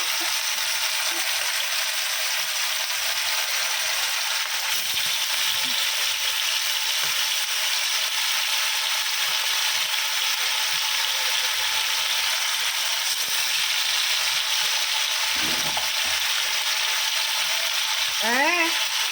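Fish fries in hot oil in a pan with onion and whole garlic cloves, giving a steady, bright sizzle for the whole stretch, with a faint clink of utensils near the end.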